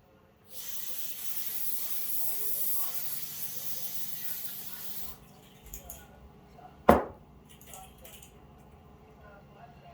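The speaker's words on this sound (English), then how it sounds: "I'm going to take a can of carpet spray and spray that out real good." Carpet spray hisses from an aerosol can into a 1945 Evinrude Zephyr outboard fuel tank, a steady close spray lasting about four and a half seconds, followed by quiet handling sounds and a sharp clunk.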